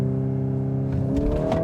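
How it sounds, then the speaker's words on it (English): A 2025 Volkswagen Golf R Black Edition AWD hot hatch launches hard under launch control, a loud steady engine note rising in pitch as it accelerates, with no talk. "We'll activate the launch control."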